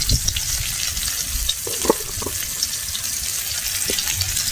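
Ground ginger, cumin and coriander frying in a pan, a low crackling sizzle with several soft stirring scrapes and knocks spread through, close and without voices.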